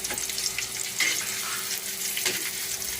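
Browned onions with tomatoes and curry leaves fry in a pan for a capsicum thokku, giving a close steady sizzle with scraping stirs and a constant faint hum underneath.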